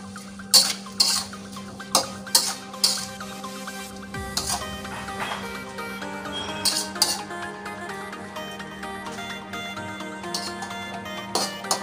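A spoon stirs and scrapes around a pan as sugar, pepper and broth powder are mixed into oyster sauce shrimp, with light clinks and taps recurring over a steady low kitchen hum.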